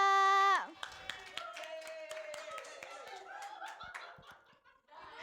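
Students in a Year 12 Indonesian-language high school class clap and snicker after a teacher's prompt, a loose burst of hand claps mixed with giggles and chuckles that settles under ongoing classroom voices.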